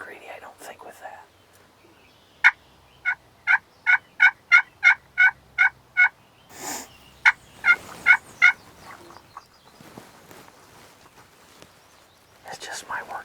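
Wild turkeys gobbling in spring, a run of about a dozen sharp, evenly spaced gobbles from a jake group at moderate distance, with soft whispered talk nearby before and after.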